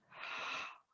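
A single big, breathy yawn during a gentle stretching session: a soft, airy exhale that swells and lasts just under a second before tapering off, close and alone.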